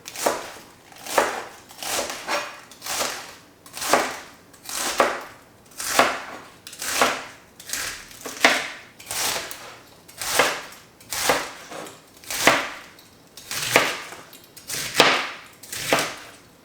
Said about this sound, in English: We will need to chop them.